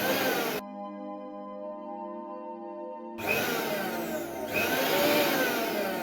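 A Flipkart SmartBuy mixer grinder with a freshly replaced coupler switches on and runs for a couple of seconds with a steady, whining motor hum, then cuts off, leaving faint handling noises.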